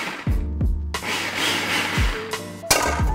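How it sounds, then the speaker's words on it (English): A food processor blends white chocolate with a loud, grinding motor whir that comes in short pulses and then one longer sustained run, close up, with no talking. "The white chocolate into the food processor as well. Now we just gotta blend this together to start."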